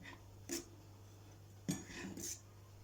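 A ladle clinks and scrapes against a pot and bowl a few times, with soft scooping sounds between the knocks as rice pudding is served, close by and fairly quiet.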